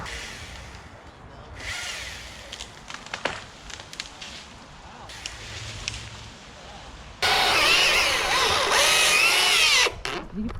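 A powered saw cuts through a tree limb over a fence and gets pinched. Quiet rustling and handling come first, then a loud, steady whine of the saw runs for a few seconds and stops sharply.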